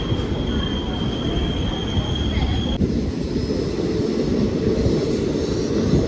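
Thrissur-Kannur Express rumbling steadily as it pulls out of Tirur station, with continuous loud wheel and carriage noise and a thin high squeal fading partway through.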